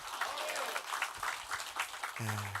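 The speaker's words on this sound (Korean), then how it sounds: "우리 주님께 큰 박수로 영광 올려드리겠습니다" A church congregation at an Easter thanksgiving service applauds, with brisk, uneven clapping throughout and a voice coming in over it near the end.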